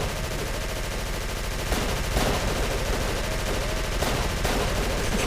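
Rapid automatic gunfire from the video game Call of Cthulhu: Dark Corners of the Earth, a dense, continuous loud barrage with a few heavier bursts mixed in.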